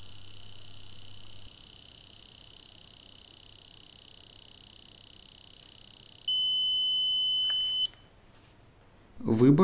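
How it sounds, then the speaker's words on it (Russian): A CHENS SCENAR therapy device gives a long, steady high electronic beep at its energy limit, clear and close, ending abruptly, after a fainter tone and before a short noisy burst. "При достижении минимальной и максимальной энергии звучит длинный звуковой сигнал."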